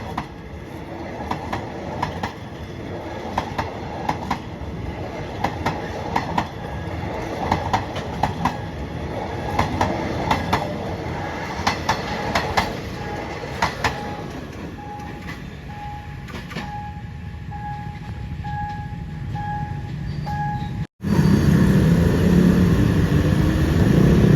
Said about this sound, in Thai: จะมีขบวนรถเที่ยวล่องและเที่ยวขึ้นนะครับผม ผ่านจุตัศรีอุทยานะครับผม